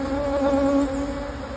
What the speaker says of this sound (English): just to be sure, I'll just shake most of the bees off